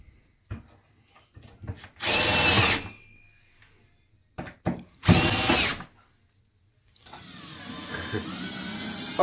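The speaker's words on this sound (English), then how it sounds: "we'll put regular screws in the wall for the rest" A power drill drives screws into wall anchors while office shelving goes up: two loud, sustained whirring bursts separated by brief clicks and handling taps, then a softer continuous run at the end.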